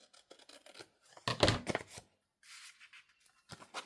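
Scissors trim a piece of paper ephemera at a desk, giving a few soft snips and rustles of handled paper, with a denser burst of cutting in the middle and quieter pauses between.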